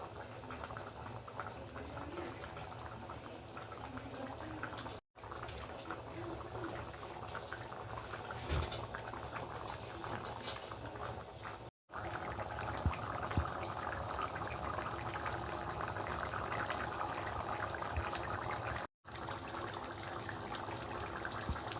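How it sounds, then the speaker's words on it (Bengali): Chickpea curry boils in a pot with a steady, bubbling simmer that continues evenly and close by, broken only by a few brief cuts of silence. "ভালো করে ফুটিয়ে তারপর এটা নামানো হবে।"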